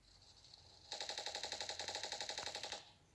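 A single sustained burst of rapid automatic gunfire from the mobile shooter Standoff 2 rattles for about two seconds after a quiet start, then stops abruptly, loud and close with no talking.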